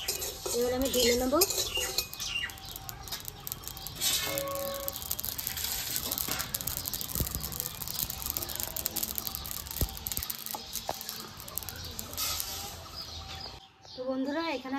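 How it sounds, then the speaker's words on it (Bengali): Fried green chillies are tipped out of a pan for a pickle, with metal scraping, stirring clinks and utensil knocks throughout, birds chirping in the background and a voice speaking intermittently. "ভাজা হয়ে গেছে, এবার আমি ঢেলে নেব।"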